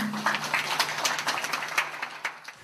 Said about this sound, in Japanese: で松浦社長が入場されます拍手でお迎えください